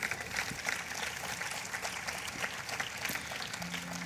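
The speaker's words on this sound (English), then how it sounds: "Let's have a huge round of applause for all our participants." An audience at a school sports award ceremony gives steady, moderately distant applause for the participants, a dense even patter of many hands continuing throughout.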